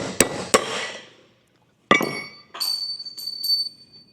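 Hammer blows knocking a wheel bearing race out of a 1996 Ford F150 hub: two sharp metallic strikes, a pause, then a ringing hit followed by several clinking, ringing impacts, close and loud with no talk.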